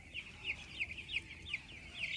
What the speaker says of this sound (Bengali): এটা 6 দিনের চিক্স মুরগি, 6 দিনের বাচ্চা।